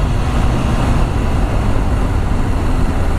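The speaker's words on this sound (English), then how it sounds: "Yeah, traffic." Road traffic rumbles past a Honda CBR1000RR Fireblade SP motorcycle on a ride near Norwich, UK, a loud, steady broadband roar mixed with wind rush throughout, with no distinct vehicle passes and no talk.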